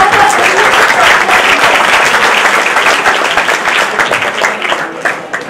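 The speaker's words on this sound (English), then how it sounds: "let us have a huge round of applause for all the participants" An audience at a college prize distribution ceremony breaks into sustained, dense applause from many hands, loud and continuous, thinning slightly toward the end.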